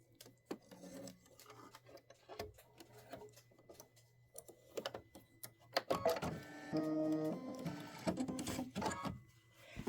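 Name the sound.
sewing machine stitching fabric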